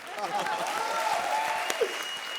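A studio audience at a comedy show claps in a steady, dense wash, with a voice and some tonal sound carrying over the applause.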